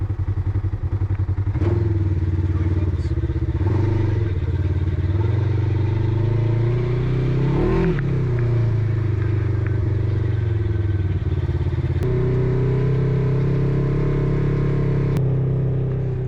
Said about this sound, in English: let you watch us ride the dunes